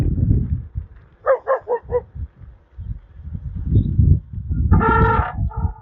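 A group of small dogs barks at a passing electric trike on a morning ride, with a quick run of four yappy barks and then a longer burst of barking. Low road rumble and wind run underneath.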